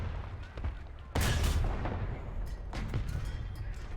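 Gunshots in a shooting video game during an enemy wave: a loud, sharp blast hits near the start, followed by several quicker, lighter shots with echoing rumble trailing behind.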